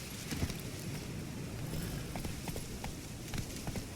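Horse hooves clip-clopping steadily in The Witcher 3 as Roach is ridden, a continuous trotting rhythm under a dense ambient wash with no voices.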